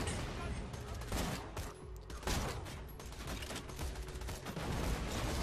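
Dense, rapid bursts of gunfire from the video game Borderlands 2 fill the whole stretch, loud crackling volleys with brief dips between them.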